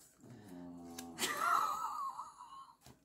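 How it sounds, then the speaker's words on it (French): A sleeping dog snoring close by indoors, one long wheezing, whistling breath with a nasal rasp, followed by a brief softer snuffle, quiet and alone. "d'entendre mon chien ronfler"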